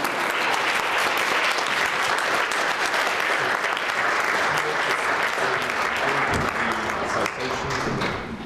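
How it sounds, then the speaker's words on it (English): An awards ceremony audience applauds Neelie at the Equal Opportunities Awards with loud, sustained clapping throughout, while a voice talks faintly underneath toward the end. "So now we get to applaud Neelie."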